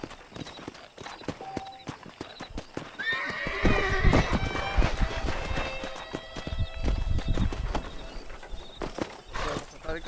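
A horse in the Wild West video game Red Dead Redemption clip-clops steadily along in a rapid hoof rhythm, whinnying once midway, with faint game ambience beneath.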